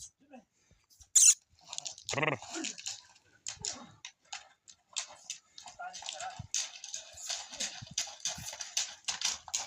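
A mare's hooves clip-clop in an irregular series of close, sharp knocks, interrupted by short splashy and scraping noises.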